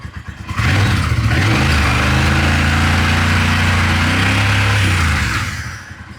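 A twin-turbo bobber motorcycle engine idling steadily and loudly up close, a deep even rumble holding for several seconds before dying down, with no talk.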